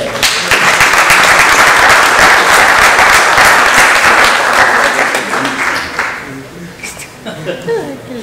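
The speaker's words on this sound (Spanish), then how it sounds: "Un fuerte aplauso para él." Loud, dense applause from an audience at an anticorruption prosecutor forum, steady for several seconds before tapering off into scattered claps and murmuring voices.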